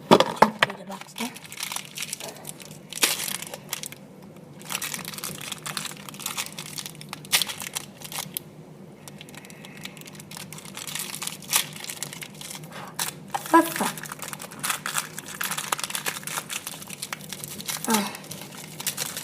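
A plastic snack wrapper is crinkled and torn open at a sibling snack tasting, with bursts of crackling and tearing spread over a long stretch, close by, while people talk now and then.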